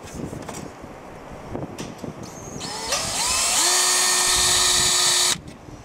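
A power drill boring into concrete starts up after a few clicks and knocks, then whirs loudly and close at a steady high pitch for a couple of seconds before stopping abruptly.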